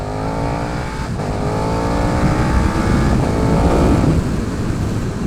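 A KTM 1290 Super Duke R 2020 motorcycle engine revs loudly and steadily up close, its rising pitch sweeping up through the gears over several seconds with no voices.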